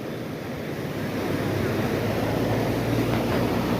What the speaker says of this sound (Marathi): याकडे पाण्याचा विसर्ग होतोय बघा छान